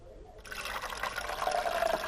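Juice mixed with rinse water trickles and drips from a Vivax SJ 150 juicer into a glass, a short, soft, close pouring sound.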